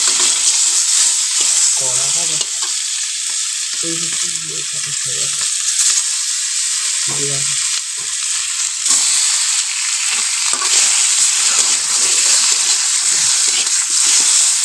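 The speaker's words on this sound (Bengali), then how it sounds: "আর কড়াইতে তেলও দিয়ে দিয়েছি, কড়া গরমও হয়ে গেছে। এখন মাছগুলোকে তুলে দেবো।" Fish pieces frying in very hot oil in a wok, a loud, dense, continuous sizzle and hiss close by with bubbling crackle throughout and no voices.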